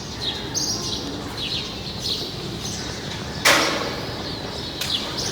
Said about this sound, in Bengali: সকালবেলা পাখির ডাক শুনতে পারতেছেন